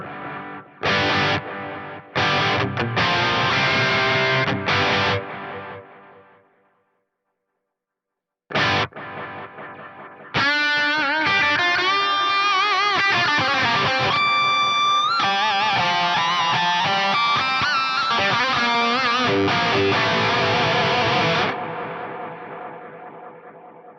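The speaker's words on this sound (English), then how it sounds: "there's this master delay block, which essentially is all the cool stuff from the DD500. We've got stuff like the Space Echo." Distorted electric guitar through a BOSS GT-1000 Space Echo delay, loud chords and rapid lead notes trailing into repeating echoes, with one short silent gap before a long dense passage.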